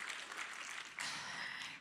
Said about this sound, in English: go on, applaud, it's fine